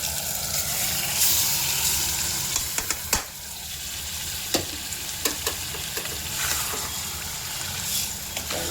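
Masala paste for dry mutton fries and is stirred in a pan, giving a steady close sizzle broken by scattered clicks and scrapes of the spoon on the metal.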